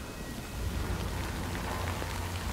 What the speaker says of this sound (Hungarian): Ajaj, esik az eső.